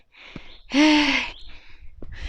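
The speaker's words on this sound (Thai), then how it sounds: "หอบเลยค่ะ" A person walking uphill to a Finnish lookout tower lets out one loud, close, breathy gasp, out of breath, with quieter breaths before and after.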